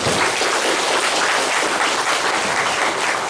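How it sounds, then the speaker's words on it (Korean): A church congregation claps in encouragement for its young adult fellowship, a dense, even wash of many hands that carries on loudly and steadily throughout, with no voices above it. "앞으로 3050 세대 우리 청장년회가 더 활성화될 수 있도록 격려의 박수를 부탁드리겠습니다"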